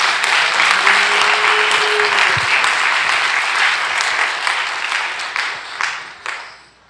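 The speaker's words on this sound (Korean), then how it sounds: "우리 하나님께 박수로 영광을 올리겠습니다" A congregation at a church worship gathering breaks into loud, sustained applause, thick and steady, then tapering off toward the end with a few last claps.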